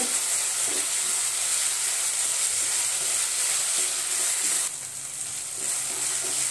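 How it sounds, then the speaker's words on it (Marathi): Finely chopped medium tomato sizzles steadily in a pan, a constant close hiss of frying that dips slightly in level toward the end, with no talking. "तोही आपण 2 मिनिटं परतून घेऊ"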